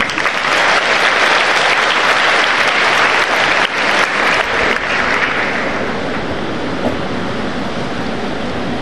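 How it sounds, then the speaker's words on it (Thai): Loud, sustained applause from a large crowd at a Thai school's Wai Khru teacher-honouring ceremony, a dense roar of clapping that slowly thins toward the end. "ขอเสียงปรบมือค่ะ"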